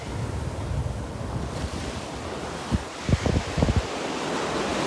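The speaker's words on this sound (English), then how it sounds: "So let me give you one more thing of the ocean here." Ocean waves wash onto a beach in a steady, broad surf roar mixed with wind buffeting the microphone, with a few low thuds near the end.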